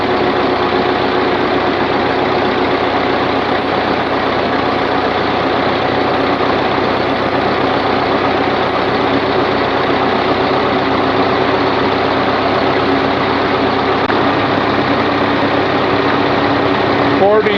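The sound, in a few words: forklift engine running at idle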